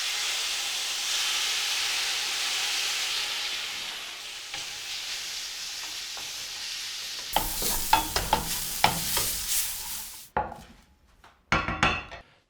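Cooked carrots in a pan being deglazed with apple cider vinegar, giving a steady loud sizzle and hiss that fades, followed by scraping and stirring clatter near the end, with no talk.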